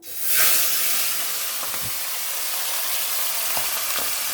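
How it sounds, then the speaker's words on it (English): Fish frying in hot rice bran oil gives a loud burst of sizzle as it goes in, then settles into a steady close hiss with a few faint clinks. "in rice bran oil we are frying this"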